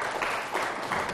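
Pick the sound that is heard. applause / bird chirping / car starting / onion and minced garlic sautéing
applause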